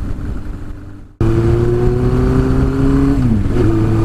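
A car engine starts up loud and close after a quieter stretch, holding a steady growl with pitch shifts as it revs and settles.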